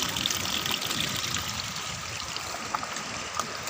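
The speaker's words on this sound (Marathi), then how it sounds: "पळय नॅनो वॉटरफॉल" A small waterfall on a trek to Hivare Khurd gives a continuous close, trickling and splashing flow of water, steady and unbroken with a few brighter drips and splashes standing out.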